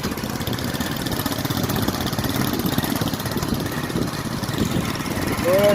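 A motorcycle rides along a rough, unpaved dirt track through farmland, its engine producing a continuous mid-pitched drone mixed with wind rumble that holds steady, then swells slightly at the end.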